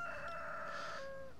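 A rooster in the farming game Stardew Valley crows once, a single drawn-out cock-a-doodle-doo lasting over a second, clear and close with no talk over it.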